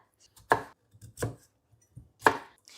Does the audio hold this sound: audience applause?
no